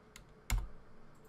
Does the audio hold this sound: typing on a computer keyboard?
yes